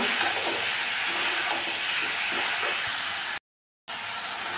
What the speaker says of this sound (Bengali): দিয়ে দিলাম মুগের ডাল, দিয়ে এবার একসাথে ভালো করে একটু কষিয়ে নেব